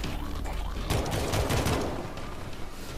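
A burst of loud shotgun fire from World War Z, several rapid heavy blasts clustered together over dense gunfire clatter, without speech.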